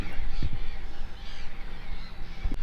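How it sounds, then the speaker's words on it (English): Gulls call out a few times at a distance over steady wind and water noise in a harbour bay, with short cries standing out now and then. "Well, apart from the seagulls."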